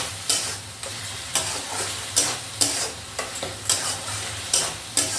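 Ginger-garlic paste frying in a pan for a Bengali chicken rezala, a continuous hiss of sizzling broken by regular, sharp spatula scrapes about every half second, close up with no talking.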